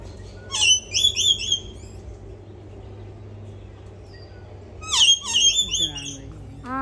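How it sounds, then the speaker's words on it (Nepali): A parrot at the Adelaide zoo in South Australia lets out two loud, harsh bursts of squawking, separated by a few seconds of quieter ambient noise. "कस्तो राम्रो सुगा रहेछ।"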